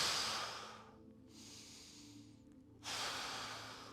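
Breathing during a glute bridge exercise comes as a loud close exhale, then a softer breath, then another strong exhale, with no speech.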